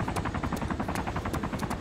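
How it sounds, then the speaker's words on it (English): Helicopter taking off in the survival game DayZ, a loud, steady rhythmic rotor thump pulsing evenly throughout at close range, with no voices. "the helicopter's taken off, so there's probably a sniper on the hotel now"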